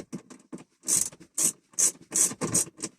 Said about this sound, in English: Now I'm just going to remove these T20s